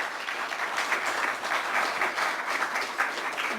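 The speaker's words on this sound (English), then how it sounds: "Please give a round of applause for our debaters here." Audience applause for the debaters at the close of a campus free speech debate, steady sustained clapping from a full room lasting the whole stretch, with no one speaking over it.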